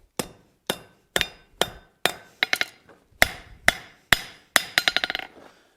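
A hammer forges the corners of an iron latch on an anvil, ringing out in a dozen sharp metallic blows, evenly spaced at first, then a fast closing flurry of lighter taps, all loud and close.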